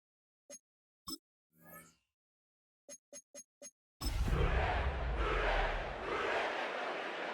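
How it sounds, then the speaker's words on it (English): A sellout stadium crowd roars steadily in the football game Madden 26 at Paycor Stadium in Cincinnati, a broad, sustained swell that follows a few short, sharp clicks. "sellout crowd has arrived at Paycor Stadium in Cincinnati"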